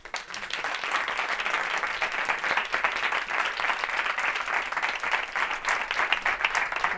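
Sustained audience applause at a Creative Mornings talk in Madrid, dense and steady for the whole stretch, with faint voices mixed into the crowd.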